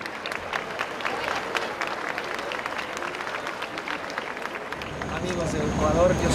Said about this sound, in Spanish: Este fuerte aplauso es para usted.